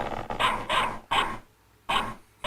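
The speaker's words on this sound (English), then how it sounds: "This is a dog." A dog barks in short, loud bursts, four or five barks with a long gap near the end, heard close and clear as a sound in a guessing game.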